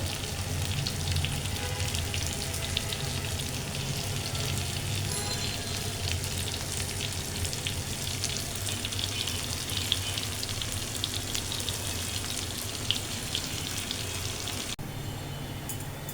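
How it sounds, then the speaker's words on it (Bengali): Green chilies fry in hot oil with hilsa fish, giving a continuous crackling sizzle with scattered pops that is loud and close and carries no talk. "তেলের উপর কাঁচা গুলো দিয়ে দিলাম ইলিশ মাছের সাথে কাঁচা মরিচ ভাজা"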